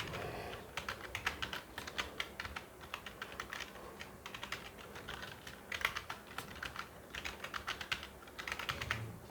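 Steady typing on a computer keyboard, quick irregular clusters of light key clicks close by with brief pauses between words, nobody talking.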